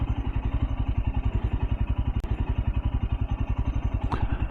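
A 2024 Royal Enfield Scram 411 motorcycle engine idles steadily with a fast, even putter throughout, close and loud, with a brief clatter near the end.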